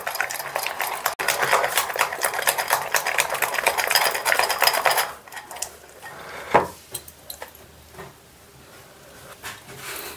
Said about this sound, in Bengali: ভালো করে এটা বেসনটা জল দিয়ে দিয়ে একটু খুব ভালো করে ফেটিয়ে নেবো